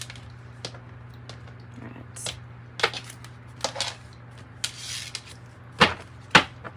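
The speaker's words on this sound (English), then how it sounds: "Just really trying to get them really good and shuffled." A deck of tarot cards is shuffled close by in irregular soft taps and sharper riffling bursts, with quiet gaps between them and a low steady hum underneath.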